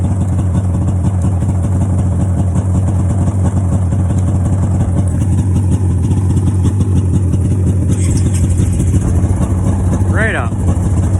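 A Honda quad ATV engine idles steadily and loudly close by after a cold start, a constant low rumble, with a person speaking over it.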